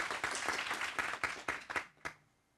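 Audience applause at a high-level international policy dialogue, a steady crowd of hands clapping for about two seconds before tapering off into a few last scattered claps and quiet.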